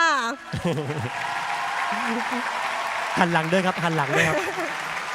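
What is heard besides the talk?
audience applause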